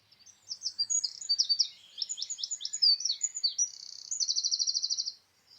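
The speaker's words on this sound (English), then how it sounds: "You can hear a wren sing her very loud song." A wren sings its loud song nearby, a rapid run of high bright chirping notes ending in a fast even trill, alone over a quiet background.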